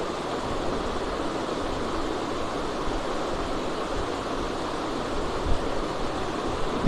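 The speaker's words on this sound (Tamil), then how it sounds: "நல்லா ஓடுது ஃபேன் கூட." The cooling fan of a compressor-less Peltier mini fridge runs steadily, giving a broad, even whooshing hiss close by with no breaks, plus a couple of faint clicks near the end.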